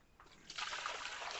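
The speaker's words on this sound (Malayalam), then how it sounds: "വെള്ളം ഇതിനകത്തോട്ട് ഒഴിച്ചു കൊടുക്കാം." Water poured into a glass for a simple science experiment, a short close trickle that swells into a louder splashing pour within a second.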